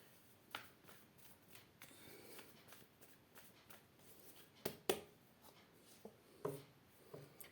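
Tarot cards being shuffled and handled, with soft riffling and scattered sharper taps and flicks spread unevenly through a quiet room, fairly close and gentle, with no talking.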